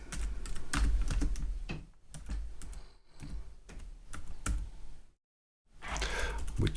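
Steady clicking of a computer keyboard as someone types, close and fairly quiet, with a brief pause near the end before typing resumes.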